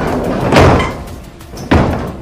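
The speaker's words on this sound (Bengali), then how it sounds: "এক টানে খুলে ফেললাম একটা দরজা" A heavy train door is yanked open with force aboard a speeding night train, giving a loud thump followed by a second sharp slam.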